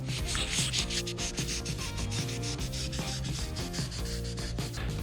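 Old adhesive being scraped and rubbed off the edge of a granite countertop slab, a steady close rubbing and sanding texture running without pause and without talk.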